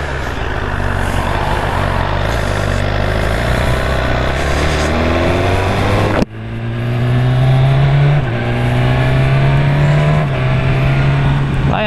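A sports motorcycle engine accelerating, a loud close roar climbing in pitch through the gears, with a brief dip at a shift before revving up again.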